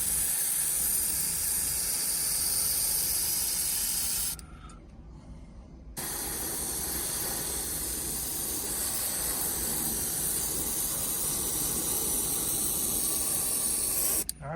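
A spray can hisses steadily as a mist coat of paint goes onto a faded Porsche 944 dashboard, pausing briefly partway through before the spraying resumes.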